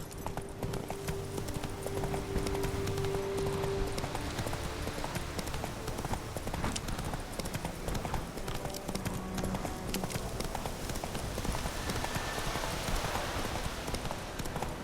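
Horse hooves clip-clop steadily at a gallop in The Witcher 3 video game, a continuous rhythmic beat with faint ambient game sounds underneath.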